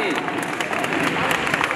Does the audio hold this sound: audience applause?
yes